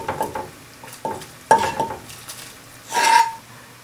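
Chopped onion and carrot scraped into a pot of half-cooked potatoes for a quick soup made with canned saury: a series of sharp metallic clinks and knocks of utensil on pot, then a brief soft splash and rustle.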